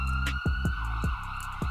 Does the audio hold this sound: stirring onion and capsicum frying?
no